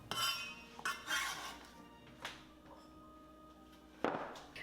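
Cucumber salad ingredients go into a bowl with a few light, separate clinks of dishes and utensils, soft and close, with quiet pauses between the taps.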